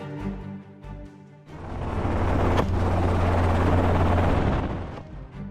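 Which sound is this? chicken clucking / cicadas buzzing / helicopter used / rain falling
helicopter used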